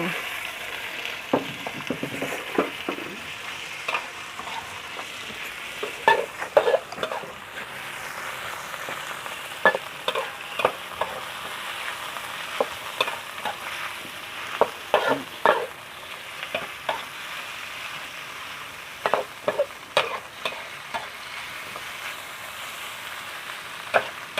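Pork and garlic are stir-fried in a wok for fried rice, with a steady sizzle broken by frequent sharp scrapes and clatters of a spatula at an uneven rhythm.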